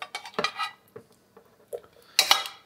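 Cauliflower pieces tipped into a cooking pot for a vegan feast dish, giving a few short clattering knocks and scrapes against the pot, close and moderately loud, with quiet pauses between bursts.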